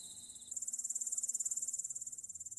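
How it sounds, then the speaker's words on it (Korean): Dense, steady pulsing trill of crickets and grasshoppers on an autumn night on Hallasan, a continuous high rhythmic chirring with a brief separate insect tone at the start, no voices. "한라산의 밤은 짝을 찾아 우는 풀벌레 소리로 가득합니다."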